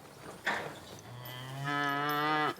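A fat beef cow moos twice on a Western cattle operation, a short low call followed by a long, loud, sustained bellow that swells and then cuts off abruptly.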